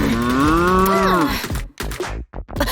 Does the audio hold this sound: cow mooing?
yes